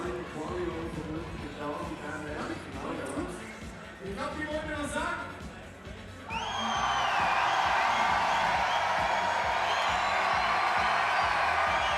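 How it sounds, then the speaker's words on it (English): A large crowd in an ice arena at a freestyle snowboard final swells into loud, sustained cheering and whooping that fills the space, after a stretch of commentary spoken over quieter crowd noise. "Don't know if you can hear the crowd escalating behind me."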